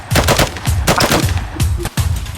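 Rapid, loud M96 rifle gunfire in the shooter game Arena Breakout, a dense burst of sharp shots fired in quick succession and close up, with a brief gap before more shots follow.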